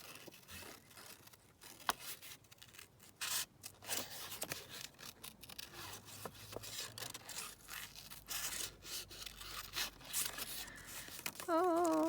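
Scissors snipping and rubbing through paper while cutting out a piece for a junk journal, a close, irregular run of scrapes and crisp snips, with a brief tonal squeak near the end.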